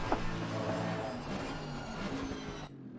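A voice imitates a race car engine at a Porsche Cup circuit event, a sustained buzzing engine tone with pitch shifts like downshifting that cuts off abruptly near the end.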